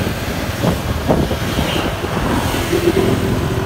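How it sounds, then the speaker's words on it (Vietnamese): Strong wind buffets the microphone while moving through the city of Huế along a river road, producing a steady broadband rumble with low gusting roar throughout and no voices. "vào thành gió khá là mạnh đấy"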